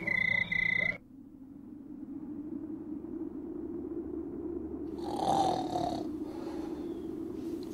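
A man snores in an animated scene, slow raspy croaking breaths repeating at close range and fairly faint, with a brief burst of other sound at the start.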